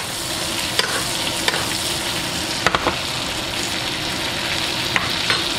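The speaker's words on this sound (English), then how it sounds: "Start basting our steak. All that lovely butter, the garlic, the rosemary." A steak basted in sizzling butter with garlic and rosemary crackles steadily up close, with scattered clicks and scrapes from the spoon against the pan.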